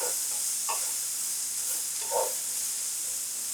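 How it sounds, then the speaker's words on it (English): Chicken pieces sizzle and hiss steadily in a hot pan as a spatula stirs them, with a couple of short scraping strokes over the constant frying. "I'm just going to give it a little stir. Let these brown up for a couple of minutes."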